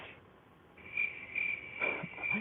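Steady high cricket chirping in repeated pulses, a crickets sound effect played as a gag during a hockey game broadcast, with faint low rumbles underneath and no voices.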